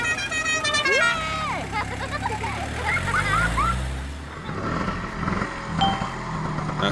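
A car horn honks several times in short toots with a sliding pitch, mixed with cartoonish engine and road noise. Other sounds follow in a busy, animated-style soundscape.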